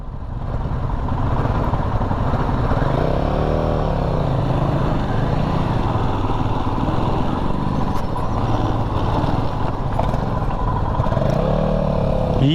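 A motorcycle on a mountain road between Chandratal Lake and Manali drones steadily and loudly up close, with some rattling and clatter over rough ground and small rises in the engine note.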